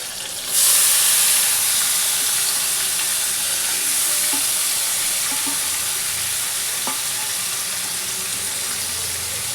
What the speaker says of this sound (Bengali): এবার মাংসটা বন্ধুরা আমি এতে ঢেলে দিচ্ছি